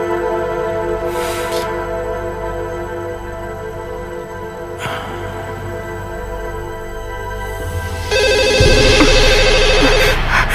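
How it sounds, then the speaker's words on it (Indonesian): A telephone rings with a steady electronic tone that grows louder and brighter toward the end, set against a quiet indoor room with a few brief bumps and rustles, in an Indonesian musical TV drama. "Mudah-mudahan itu telepon dari Tuan Harry."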